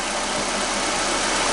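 A 2-liter car engine idles steadily at close range, a constant even rumble with a faint knocking texture running unbroken and alone throughout.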